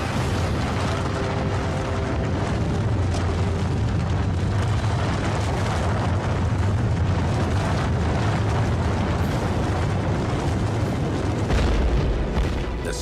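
A building collapses as floors cascade down in a long, roaring rumble of crashing debris and deep booms, loud and continuous with a heavy low surge near the end.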